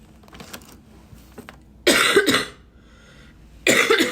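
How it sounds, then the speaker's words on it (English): Two harsh, close coughs burst out separately, the second after a short pause, with quiet rustling and small clicks between them. "So as you can see, I still have a cough."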